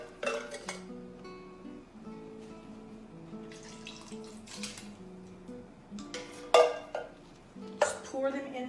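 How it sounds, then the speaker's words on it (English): Wet, soft splats and sloshing as canned diced tomatoes slide into a pan, with clinks of metal on cookware. "Just pour them in the pan."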